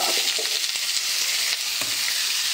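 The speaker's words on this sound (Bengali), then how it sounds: "তো দেখো কড়াইতে দিয়ে দিয়েছি কালো জিরে, শুকনো লঙ্কা, তেজপাতা, এবার আলু দিয়ে দেবো।" Potatoes frying in a wok of hot oil with black cumin, dried chili and bay leaf, a steady close sizzle with scraping stir strokes running through it, no voices.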